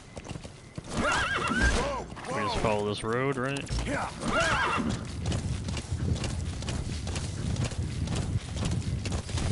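Horse hooves clip-clop steadily in Metal Gear Solid V gameplay, mixed with a neigh and game sounds, while people talk over it throughout.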